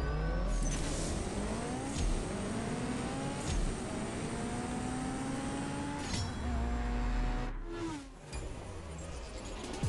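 Honda Varis race car in the CSR2 racing game, engine revving hard through repeated rising gear sweeps with sharp shift breaks, loud and continuous, a brief dip near the end before it climbs again.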